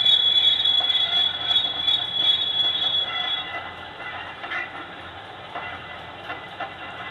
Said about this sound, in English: Brake squeal.